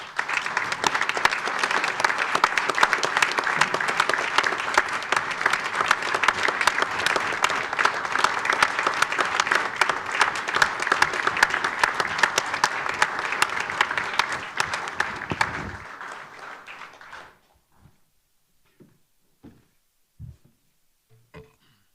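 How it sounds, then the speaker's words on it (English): A village board meeting audience gives the police department a standing round of applause, dense loud clapping for about fifteen seconds that fades out, followed by scattered quiet knocks and shuffles. "I'd like us to stand and give a round of applause to the whole police department."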